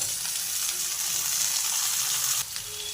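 Potatoes and elephant foot yam frying together in a pan with browned onions, a loud, steady, close sizzle running the whole time with no talking.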